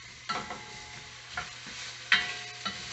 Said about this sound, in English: So we'll sit here and saute a little bit so that they're nice and